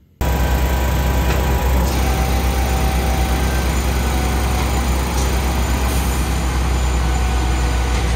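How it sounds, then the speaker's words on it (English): Heavy concrete mixer truck engine running steadily close by, a loud constant low rumble with a faint high whine and a brief hiss near the start, no voices. "Mixer truck."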